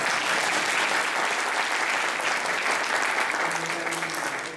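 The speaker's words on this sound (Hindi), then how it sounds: "बीच बीच में ताली बजाते रहे ताकि मेरा मनोबल बढ़ता रहे" Audience applause at a talk, loud continuous clapping from many hands that holds steady and tapers slightly near the end, with a brief tonal sound underneath.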